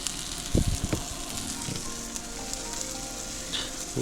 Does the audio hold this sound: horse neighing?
no